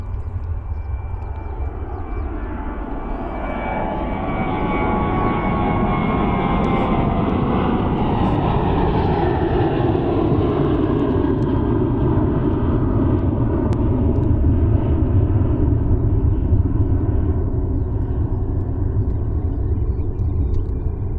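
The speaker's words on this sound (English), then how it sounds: "There we go. Boeing 737-8." A Boeing 737-8 takes off at Munich Airport on an evening departure, a loud, rising roar and deep rumble of jet engines that swells and holds, then slowly shifts as the aircraft climbs away.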